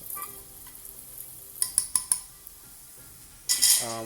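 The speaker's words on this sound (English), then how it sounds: "while the onions is getting nicely caramelized" Onions caramelizing in a pan sizzle faintly while a metal spoon clinks and scrapes against the pan several times, then a louder burst of sizzling near the end, with no talk.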